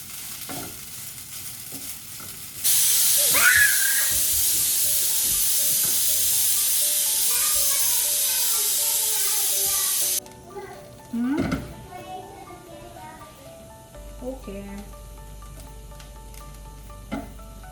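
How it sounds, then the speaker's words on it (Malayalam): Two handfuls of grated coconut fry in coconut oil, giving a loud, even sizzle that holds for several seconds before cutting out. A voice and other people talking come before and after it. "2 പിടി തേങ്ങ എടുത്തിട്ടാണ് വറുക്കുന്നത് കേട്ടോ"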